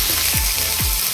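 Grated bottle gourd fries in a pan with a steady, close sizzle while it is stirred, and two low scraping strokes sweep through the hiss.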